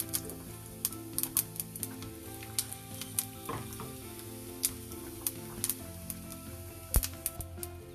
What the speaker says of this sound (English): Add little oil, not much. Add the tempering items. Add 2 red chilies.